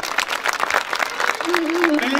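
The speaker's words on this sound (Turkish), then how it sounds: "personelimize bir alkış alabilir miyim?" A concert audience claps for municipal staff, a dense burst of applause from a crowd, with a voice over a loudspeaker heard alongside.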